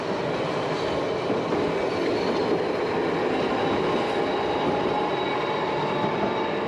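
An electric tram runs through Milan with a steady, continuous rumble of wheels on rails and faint metallic clatter, close by and alone for several seconds.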